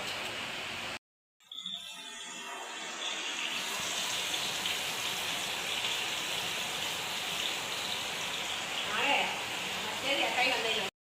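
Heavy rain falls outside, a steady, dense hiss that sets in after a short gap and holds continuously at moderate loudness.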